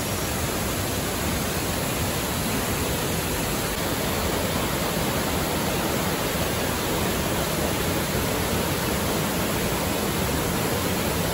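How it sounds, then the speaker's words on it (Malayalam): Waterfall near Vagamon, a dense unbroken roar of falling water that fills the whole scene, loud and steady throughout, with no voices. "നമ്മളെ ഇപ്പോ ഒരു വെള്ളച്ചാട്ടത്തിന്റെ അടുത്താണ് നിൽക്കുന്നത്"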